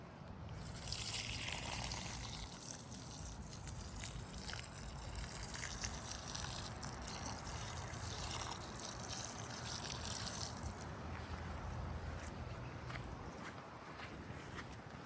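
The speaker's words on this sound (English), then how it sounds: "I think I need to give this a good watering though." Water sprayed from a hose or watering can over a summer garden bed, a steady broad hiss and trickle running continuously at moderate level, with faint footsteps or movement beneath it.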